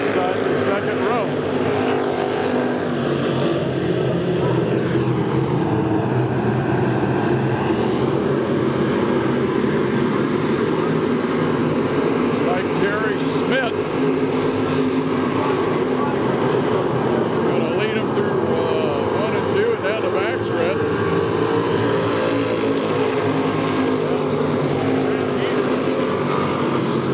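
Factory stock race cars roar together at the start of an A main feature at Lakeside Speedway, a loud continuous dense engine drone throughout with a crowd-level wash and voices underneath.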